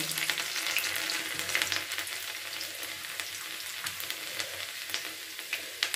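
Chopped garlic added to a frying pan of kundru with black cumin, a bright crackling sizzle that stays dense and close for several seconds, with light stirring scrapes and no talking.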